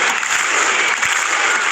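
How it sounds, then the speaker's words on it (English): Canberra Raiders fans in the stands at an NRL rugby match clap in a dense, steady roar of crowd applause. "Here's a little ad hoc Viking clap from the Canberra fans here."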